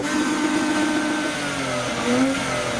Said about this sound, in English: he's just started revving, so there goes the Monaco XJS.